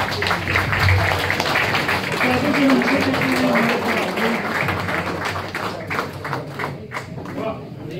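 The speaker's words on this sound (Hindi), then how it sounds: "खड़े होकर इनके लिए तालियां" A standing audience at a poetry gathering honouring a teacher and publisher applauds, a dense wash of clapping that fades gradually while voices talk over it.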